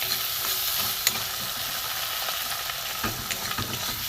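Spice paste of sugar, salt, chilli powder, turmeric and ground cumin-coriander fries for cabbage paneer, hissing in a steady loud sizzle with a few soft scrapes of stirring, close up and without speech.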